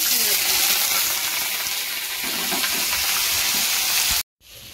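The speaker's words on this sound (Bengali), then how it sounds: "এখানে তেলের মধ্যে দিয়ে দিয়েছি তেজপাতা, শুকনো লঙ্কা, গোটা গরম মশলা, আর এবার দিয়ে দিচ্ছি কুচনো" Chopped ingredient dropped into hot oil already holding bay leaf, dried chilli and whole spices for a chicken dish: a loud, steady broadband sizzle and hiss that runs continuously, then cuts off abruptly near the end.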